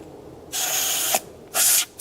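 Rough scraping strokes raking caked buildup off a part of a Mosquito Magnet Independence trap, in two loud bursts separated by short pauses, close by and without talk.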